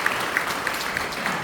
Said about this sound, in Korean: 우리 감사의 격려 박수